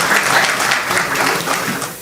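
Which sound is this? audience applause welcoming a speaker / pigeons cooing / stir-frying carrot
audience applause welcoming a speaker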